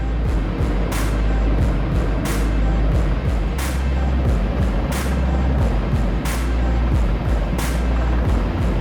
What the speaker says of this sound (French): c'est rien pour le plus grand hélicoptère de production au monde